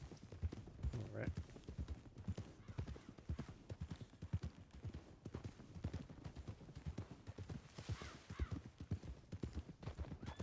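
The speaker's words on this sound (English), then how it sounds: "pick it up to a canter" A horse canters in the RedM video game, with a rapid, steady run of close hoofbeats going on throughout while voices talk over them.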